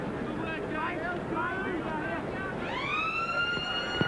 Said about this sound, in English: The siren goes for full time.